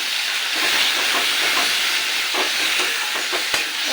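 Turmeric, chili, cumin and coriander powders are sautéed with fried potatoes in a pan, a steady close hiss of frying with soft stirring scrapes and one sharp tap near the end.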